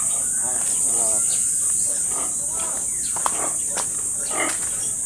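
A pig gives several short grunts, fairly close, against a constant high insect or cricket hum, with voices talking faintly around it.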